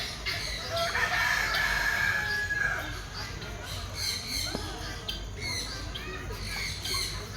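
Close-up squawking and crowing from fowl, with scattered clucks continuing over constant outdoor noise.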